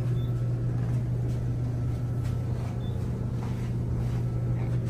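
A modded 1980 Eastern (Payne) traction elevator at Cherry Hill Plaza rides with a constant low mechanical hum and rumble, and faint knocks and rattles from the car are scattered through it.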